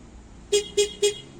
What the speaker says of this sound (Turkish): 3 kere korna çaldı